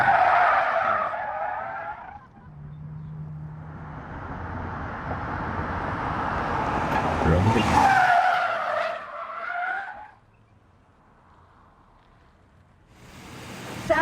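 During a Border Patrol training PIT maneuver, a car is struck and spins out. Loud, close tire squeals and skidding rise and fall over the engine, then things go briefly quiet before another burst of noise.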